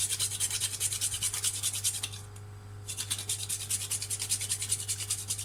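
Whole nutmeg is rubbed against a grater in quick, even rasping strokes, soft and close, with a brief pause midway before the scraping resumes.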